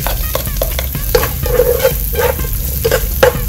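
Onion sautéing with garlic in a tablespoon of olive oil in a saucepan, a steady close sizzle broken by repeated scraping stirs at a loose rhythm, with no talking.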